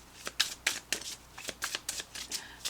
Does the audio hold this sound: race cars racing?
no